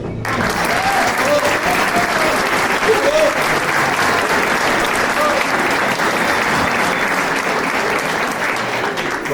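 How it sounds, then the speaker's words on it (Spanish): Loud, close audience applause welcoming a speaker at a political event in La Falda, a thick continuous roar of clapping that stays even for the whole stretch. "Los aplausos para él."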